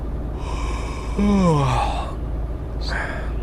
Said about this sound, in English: Stop your yawning.